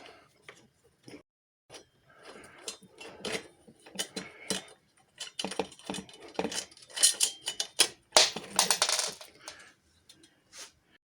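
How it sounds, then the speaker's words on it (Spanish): Spring mechanism that winds the tape of a roller blind being taken apart by hand, giving a run of close, dry metallic clicks, rattles and small clatters in irregular bursts, busiest toward the end, with no talking. "tenemos que venirnos aquí y desmontar el muelle donde se enrolla la cinta de la persiana"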